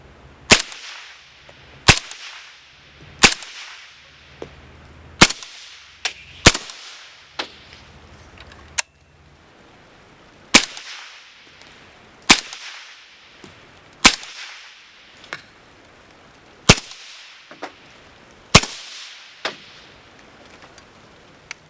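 Five rounds of suppressed rifle fire through a Griffin Armament Dual-Lok 7, each a sharp, loud crack with a brief decaying tail, spaced irregularly with quiet gaps, plus smaller clicks and metallic handling noises between shots.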